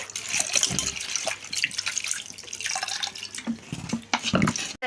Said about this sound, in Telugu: అటుకులు అనేది రెండుసార్లు శుభ్రంగా అనేది కడుక్కోవాలి